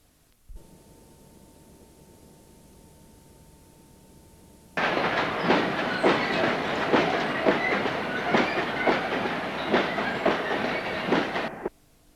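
A Class 66 diesel locomotive hauls empty coal wagons on a colliery branch line near a junction, arriving suddenly loud and close with steady rumble and rhythmic clickety-clack of wheels over rail joints, then cutting off; a faint steady tone precedes it.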